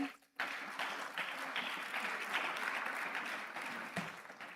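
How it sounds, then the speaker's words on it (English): At a Lagos Business School executive programmes graduation ceremony, an audience gives sustained, even applause, a broad wash of many hands filling the hall after a short pause. "Please a round of applause for them."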